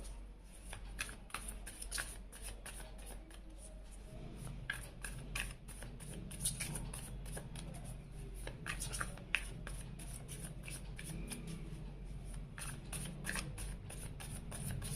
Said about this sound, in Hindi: आप चाहें तो कार्ड शफलिंग को स्किप कर सकते हैं अगर आपको जल्दी देखना है तो